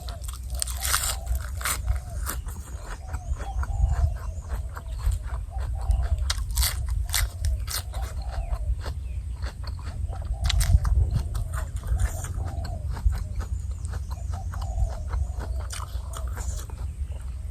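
Loud, close crunching bites and chewing of fresh, crisp raw vegetables served with a spicy Thai-Lao papaya salad, repeating in an irregular rhythm over a low background hum.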